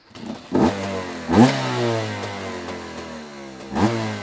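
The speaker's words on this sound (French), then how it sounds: "Ah, le bruit du deux temps, comment que ça fait plaisir." A two-stroke motorcycle engine revs in several sharp bursts, about three rising blats over a steady buzzing idle, close and fairly loud with no talking.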